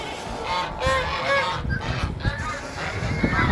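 Honking fowl calls on a livestock farm, several loud nasal honks repeating close by over a few seconds with faint background movement.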